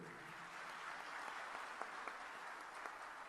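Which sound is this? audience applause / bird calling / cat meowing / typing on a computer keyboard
audience applause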